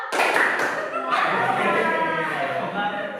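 Rhythmic hand clapping from a group performing a clapping chant, steady repeated claps close by, mixed with chanting voices throughout.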